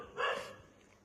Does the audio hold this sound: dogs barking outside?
yes